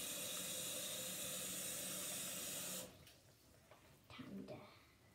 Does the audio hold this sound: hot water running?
yes